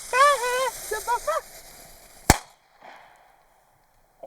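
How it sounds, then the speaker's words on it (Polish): A single small Panca firecracker, a New Year's Eve banger, goes off with one sharp crack right after a voice, followed by a faint rustle; people talk before the bang. "Stare chłopa się petardkami bawią, nie? I to jeszcze takimi pikolakami."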